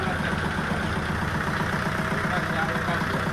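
Patel tractor engine idling just after starting at a village garage, a steady, even mid-low chugging hum that runs continuously without change.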